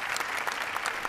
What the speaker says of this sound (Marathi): पण एकदा जोरदार टाळ्या तिघींसाठी झाल्या